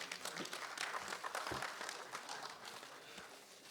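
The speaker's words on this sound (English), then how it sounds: "A round of applause for her." Faint, distant applause from an audience at a Nigerian Society of Engineers lecture, a soft continuous patter of many hands with a few louder claps.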